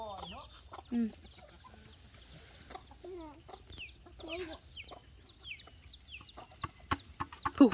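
Chickens clucking close by on a farm, a busy run of short repeated clucks and squawks from several birds, with brief handling noises near the end.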